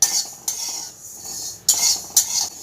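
Mustard seeds dry-roasted in a pan for a Bengali khoka ilish dish, stirred with a utensil: a few short scraping, rattling bursts against a soft continuous hiss, close and moderately loud.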